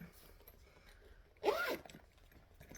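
A zipper on a round sewn circle bag is pulled once in a quick, close rasp of about half a second, set against quiet room tone.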